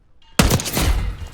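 A sudden burst of heavy gunfire erupts after a brief near-silence in the Call of Duty: Black Ops 6 video game, loud and dense, with rapid overlapping shots sustained through the rest of the exchange.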